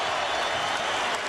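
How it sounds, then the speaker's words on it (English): A packed basketball arena crowd at Tennessee roars loudly and steadily during a college game against Florida, a dense, continuous wash of cheering and applause with no pauses. "Listen to this crowd now."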